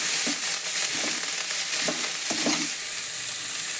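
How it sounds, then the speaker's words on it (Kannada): Onion, garlic, coriander and cumin fry in a pan, a steady bright sizzle running throughout, with a few soft stirring scrapes and taps at intervals. "ಜೀರಿಗೆ ಹಾಕಿ ಹುರ್ಕೋಬೇಕ್ರಿ."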